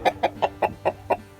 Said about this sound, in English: We got an Americana rooster.